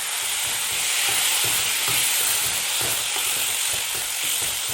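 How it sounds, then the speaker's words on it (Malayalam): Gooseberries stirred as they fry in a pan for a pickle, a loud, continuous close sizzle with repeated scraping strokes of the spoon against the pan, no voices. "നെല്ലിക്ക കുടഞ്ഞിട്ടിട്ട് ഇളക്കണം"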